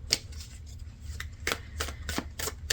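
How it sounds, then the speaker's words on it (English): Cards being shuffled in repeated quick riffles and rustles, close by and fairly soft, with a low background hum and no talking. "as I'm shuffling out your cards"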